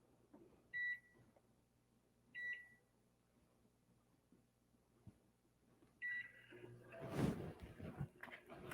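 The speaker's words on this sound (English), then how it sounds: "We're going to microwave that for like 30 seconds just to start" Microwave oven heating chocolate in a home kitchen: three short electronic beeps spaced apart, then a door clunk and clattering handling noise, close and quiet with no voices.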